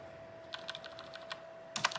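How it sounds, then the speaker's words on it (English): Computer keyboard keys pressed repeatedly while setting up an Asus ROG Ally, a quick run of light clicks followed by a denser burst of taps at the end, close and clear with no talking. "I'm doing a whole bunch of tab keys right now"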